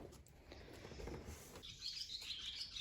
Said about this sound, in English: Hear the birds and swallows up there playing.